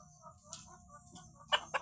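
A tethered village chicken used as a decoy for wild junglefowl gives a few soft, close clucks, ending in two sharper louder calls, with quiet background sounds around it.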